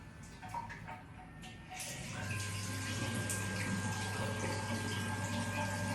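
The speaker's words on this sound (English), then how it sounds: "we will try to run the water to test if it's all clear or not" Water running steadily from a tap into a sink and down the drain after the waste trap has been cleared, a continuous close rushing flow that grows fuller after the first couple of seconds.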